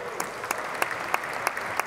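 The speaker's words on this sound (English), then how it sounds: "Round of applause." Light applause from a town hall audience, soft continuous clapping with a few sharper individual claps standing out at a steady, spaced rhythm, fairly faint and distant.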